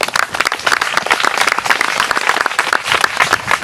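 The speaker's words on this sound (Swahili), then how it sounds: "Tuwapigie makofi mengi." Dense, steady applause from an audience at a school desk handover ceremony in Kigoma, Tanzania, many hands clapping continuously and loudly throughout.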